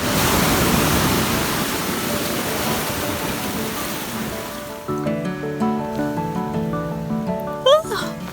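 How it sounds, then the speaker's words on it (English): Broad, rushing surf noise of ocean waves fills the first half, then gives way to a quieter stretch with a voice speaking and music-like tones. "I'm cozy in my tent, and I can hear the ocean waves."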